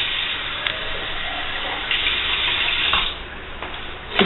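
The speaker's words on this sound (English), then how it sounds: "I think I'm going to have to add a little tiny bit more water." Water runs steadily from a tap as it is poured into a pot of albondigas soup to add broth, a continuous close splashing stream with a few small surges and clinks, no voices.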